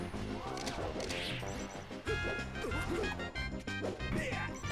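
Forward smash attacks in Super Smash Bros. Melee, with Falco facing Marth near the ledge, land as loud crashing hits and whacks over busy game music and effects, with talk running over them.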